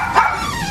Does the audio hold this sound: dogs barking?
yes